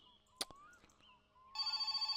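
A telephone rings in My Summer Car, a game about building a car, its bell-like trilling ring starting suddenly after a few faint clicks and knocks and repeating in steady pulses, clear and prominent.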